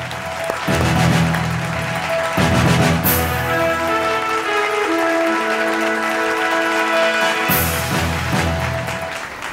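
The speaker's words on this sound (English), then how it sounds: "Ladies and gentlemen, big round of applause." Applause from an audience at a capital and commodity markets awards ceremony, greeting the recipient of a special contribution award. It is a steady, dense wash of clapping with tonal sound mixed in, holding at an even level for nearly ten seconds.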